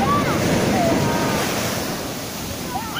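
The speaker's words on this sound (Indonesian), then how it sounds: "Tuh, datang lagi tuh ombaknya tuh. Awas, ombaknya datang lagi." Waves roll in on a beach at Tambak Rejo in south Blitar with a loud, continuous roar of surf, buffeted by wind noise on the microphone, while a few faint voices sound beneath it.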